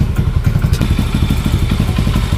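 A Honda Wave motorcycle with a clutch conversion idles steadily, its engine giving a low, even rumble with rhythmic thumping pulses up close and no voices.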